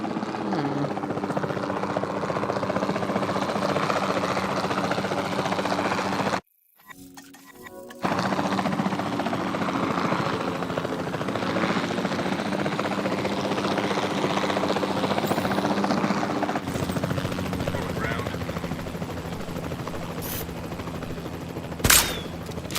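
A helicopter's rotor in the video game Jurassic World Evolution drones steadily and fairly loud, cutting out briefly partway through before resuming, with a sharp bang near the end.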